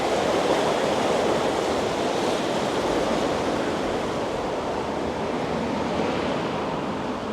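A river in flood after Storm Bert at Wicksteed Park, Kettering, rushes past nearby as a loud, continuous roar of churning water, steady throughout with no voices.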